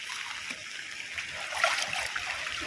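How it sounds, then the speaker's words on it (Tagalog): Sea water splashing and sloshing against a small fishing boat in rough waves, a continuous hissing wash with a louder surge midway, fairly faint and unaccompanied by talk. "Kasi malaki yung alon."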